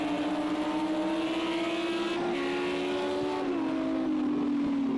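Lamborghini and Audi GT3 race cars in Project CARS 2 at Catalunya, their engines droning steadily up close with a tone that climbs gradually and then dips slightly as one car shifts, heard alone with no voices.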